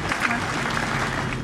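Audience applause for Akpermet, a guest at a gathering of young entrepreneurs in Moscow: a dense, steady wash of many hands clapping together, sustained and fairly loud throughout.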